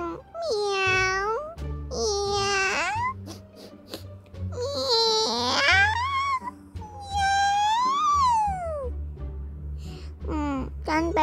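A cat in the video game Toca Life World meows repeatedly: several drawn-out, rising and falling meows in a row, close and clear, with short pauses and soft background tones between them.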